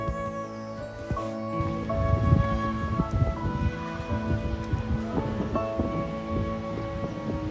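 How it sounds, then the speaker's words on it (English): Steady rain falling in Cuenca, Spain, a continuous hiss and patter with a low humming drone underneath and no voices. "It's raining."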